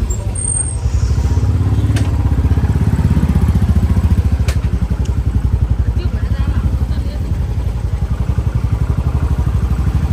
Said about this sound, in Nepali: सबै बाइकै बाइक छ।